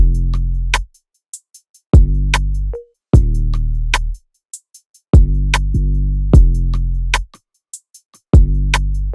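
A sparse drum beat: deep kick hits spaced apart with crisp, short hi-hat ticks in between, leaving gaps of near silence.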